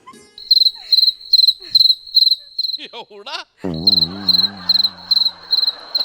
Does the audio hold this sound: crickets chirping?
yes